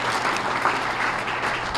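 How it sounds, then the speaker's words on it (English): An audience at a Merrimack Valley small business awards breakfast claps steadily for award winners, a dense, even wash of applause that holds for the whole short stretch. "So clap for all of you."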